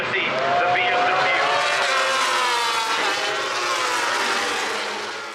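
A BMW race motorcycle screams down the front straightaway at Laguna Seca, loud high-revving engine roaring close by and sweeping past, fading slightly at the end.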